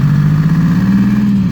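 A Toyota fitted with a two-stroke diesel engine runs at a steady idle, a close, even low drone with a constant hum and no voices.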